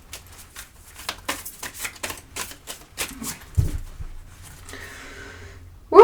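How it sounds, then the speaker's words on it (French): Tarot cards are drawn and laid out for a nine-card spread in a rapid run of light taps and flicks, close and crisp. A soft rustle and a brief louder sound come at the end. "On va faire un petit tirage de 9 cartes."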